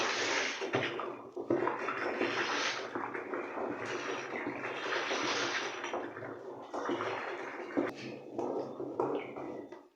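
A liquid caustic soda solution is poured and stirred into a bowl for soap making, a steady continuous splashing and sloshing with brief changes in flow.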